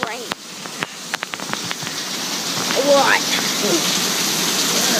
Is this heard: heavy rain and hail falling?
yes